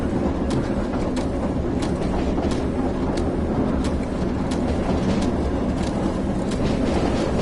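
A train runs on a UK line in the Train Sim World video game: a steady, loud rumble with evenly spaced clickety-clack beats from the wheels on rail joints.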